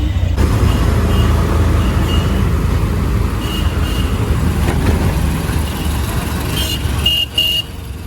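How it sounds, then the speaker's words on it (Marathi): Riding inside an auto rickshaw on a busy road: a steady engine and traffic rumble fills the ride, with a few short horn toots near the end. "आता आम्ही दोघे एका रिक्षात आहोत आणि आता घरी जायला निघालो आहे"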